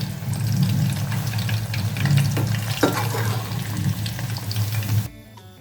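Chicken kabab pieces deep frying in hot oil for a second round, a steady dense bubbling sizzle that fills the whole clip with a few sharper crackles, then cuts off abruptly near the end.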